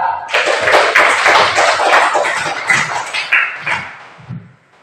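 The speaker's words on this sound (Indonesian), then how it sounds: "maka tepuk tangan buat pertanyaan si" Audience clapping in a classroom during a teaching-practice lesson, dense and steady for about four seconds before tapering off into a few scattered claps.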